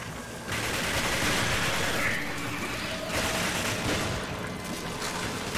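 Dense, continuous gunfire blasting at a monster in Resident Evil 5, loud rapid bursts and booms layered into a sustained roar of shooting with crashing impacts.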